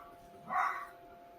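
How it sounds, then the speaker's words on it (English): A dog gives a single short bark or yip indoors, a moderately loud burst in the middle set against quiet room tone. "Sorry about the dog."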